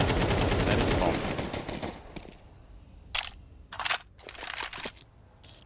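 Gunfire in a professional Counter-Strike match: several sharp bursts of shots near the end, after a stretch of dense loud sound, with commentator talk mixed in.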